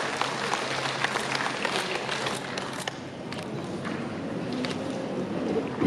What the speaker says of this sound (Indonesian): Kita beri aplaus bersama.